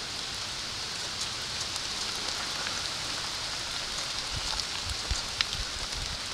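Pouring rain falls steadily outdoors on a hiking trail, a constant hiss of drops on the ground with a few louder close splatters, no voices.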